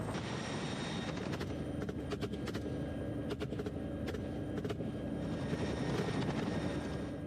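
A helicopter flies over Texas during feral pig hunting, its rotor producing a continuous loud, chopping thrum with a steady engine roar that fills the whole stretch.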